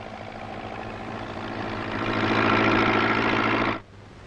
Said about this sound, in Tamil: நீங்க சொன்ன மாதிரியே அருமையான டிராக்டர் அலைஞ்சு விசாரிச்சு வாங்கிட்டேன்